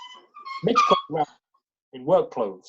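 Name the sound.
dog barking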